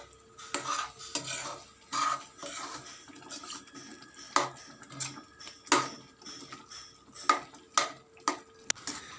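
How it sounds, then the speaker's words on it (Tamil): A ladle stirring jaggery into a cooking mixture for ukkarai sweet, Chettinad style, in a metal pot, with repeated scraping and clinking strokes in an irregular rhythm, close and fairly quiet. "வெல்லத்தை சேர்த்ததும் இது மாதிரி கரண்டியால் நல்லா கலந்து விட்டுக்கோங்க."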